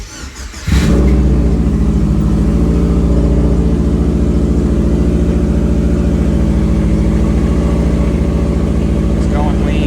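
A forged STI-swapped Subaru Forester engine turns over with a short squeal and fires up, then holds a loud, steady, throbbing idle close by for several seconds.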